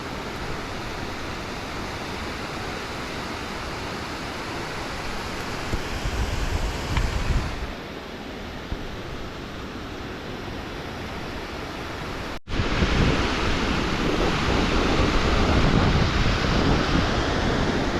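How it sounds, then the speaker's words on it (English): Small falls at the top of a creek in a Western Canadian river valley give a steady broadband rush of water, continuous and fairly close, with a brief handling bump partway through. "Small little falls up the top of the creek here."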